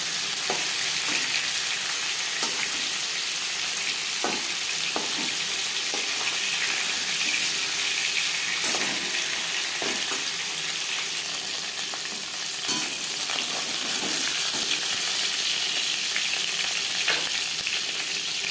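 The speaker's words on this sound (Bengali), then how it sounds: "মাছ ভাজা হয়ে গেছে" Hilsa fish pieces fry in a wok of oil with a steady, dense sizzle, broken by occasional sharp crackles and spatters, close and continuous throughout with no talking.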